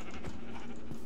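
Sheep bleating in the video game RLCraft, a modded Minecraft, with a couple of short bleats heard close over game ambience and no talk.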